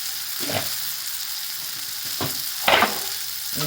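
Spices such as red chili powder and garam masala frying with cluster beans in a pan, a low steady sizzle broken by a few sharp scraping stirs, close and with no voices.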